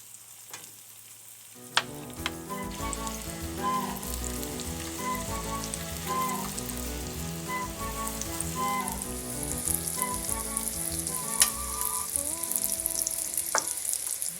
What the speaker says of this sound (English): to the frying pan and allow them to fry